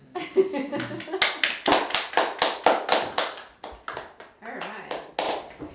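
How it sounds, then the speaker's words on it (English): A small group claps at a homemade Thanksgiving feast, sharp close handclaps in a quick uneven rhythm, with voices mixed in. "I think we deserve a round of applause"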